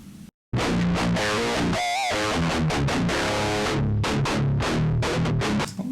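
Electric guitar played through a direct input with no amp or cabinet, a thin, buzzy DI tone in a steady run of strummed chords and picked notes with a brief bend, continuous and alone.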